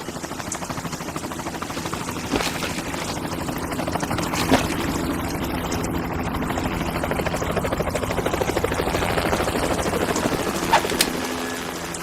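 A helicopter's rotor beats steadily in a continuous chopping drone in Metal Gear, fairly loud and unbroken, with a few faint clanks over the engine noise.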